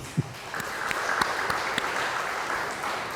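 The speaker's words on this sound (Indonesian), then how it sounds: "Tepuk tangan untuk GBI." Congregation applause at a Sunday church service of GBI Hosana Semarang, a moderate steady patter of many hands in a hall, with a brief thump near the start and no talk over it.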